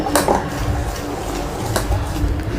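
Foxtail millet dosa batter with chopped coriander being stirred in a bowl: soft wet squelching and a few light scrapes of a spoon, close and continuous.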